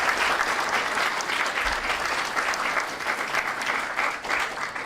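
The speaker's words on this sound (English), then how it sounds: "Let's give a round of applause for Bridget." Steady applause fills a room at an event marking Myasthenia Gravis awareness month in Connecticut, with a dense crowd clapping evenly throughout, nearby and loud, no voices heard above it.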